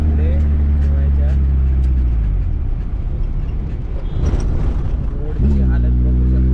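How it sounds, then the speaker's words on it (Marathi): Road traffic in Mangaon, with a vehicle engine droning close by and rising and falling in pitch as it changes speed, plus a brief burst of passing noise in the middle. "ट्रॅफिकने भरलं आहे मानगाव."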